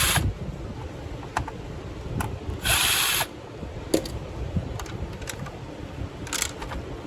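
A power drill removes screws from a Hoover WindTunnel 3 vacuum, model UH72615, with one loud close whir lasting about half a second, plus scattered clicks and handling knocks around it.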